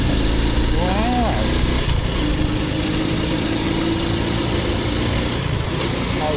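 Honda Wave motorcycle engine running steadily while being ridden through gear changes on a rural road in Thailand, a loud continuous engine drone with a rider talking over it.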